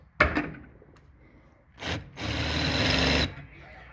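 A 3/8-inch hole being drilled into a reflector element for a dual band stub J-pole antenna: a short burst of drilling, then a steadier, louder run of about a second and a half, close by and alone.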